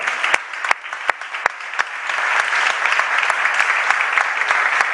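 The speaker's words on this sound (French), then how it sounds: "Applaudissons le Seigneur." Church congregation applauding the Lord during a worship service, starting with scattered sharp claps that quickly swell into dense, sustained applause from the whole room.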